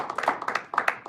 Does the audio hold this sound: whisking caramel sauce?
no